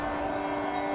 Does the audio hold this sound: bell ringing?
no